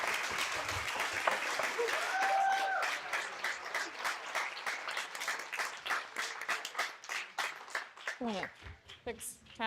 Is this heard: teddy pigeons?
no